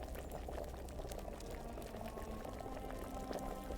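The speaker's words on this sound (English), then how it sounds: "pour it into the cauldron" Liquid poured into a boiling alchemy cauldron in Kingdom Come: Deliverance, a steady bubbling boil with a pouring splash layered over it, continuous and fairly close throughout.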